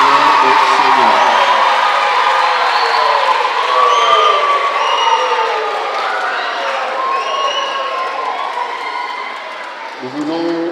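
A church congregation cheers and applauds in acclaim of the king of kings, a dense crowd roar with whoops and shouts sustained loudly from start to finish.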